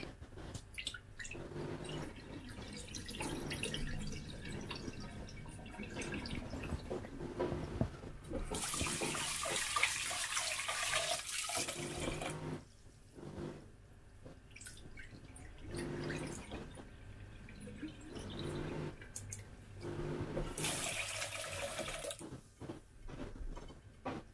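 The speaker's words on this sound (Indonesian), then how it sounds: "Cuci sampai 3 atau 4 kali ya, sampai benar-benar bersih." Cassava tiwul washed by hand in a basin of water, sloshing and splashing in bursts with dripping between, close and moderately loud, repeated over several rinses.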